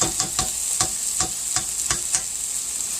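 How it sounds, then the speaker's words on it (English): Butter softening in a hot pan with a steady sizzle, while the back of a spoon presses and scrapes it in repeated light taps, close and clear with no talking. "we'll just smush it down a little bit with the back of our spoon here"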